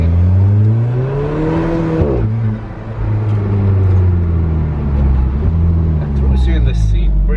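A 2018 Alfa Romeo 4C sports car accelerating hard, heard from inside the cabin with a deep, rising engine note, a gear change partway through, and people talking over it.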